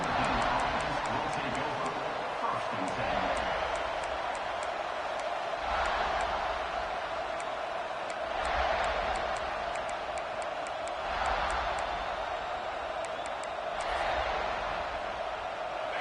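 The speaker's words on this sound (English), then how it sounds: "This crowd ready to make its presence known" Football stadium crowd during a game broadcast, a constant roaring wash of many voices swelling in waves across the full stretch, with an announcer speaking over it.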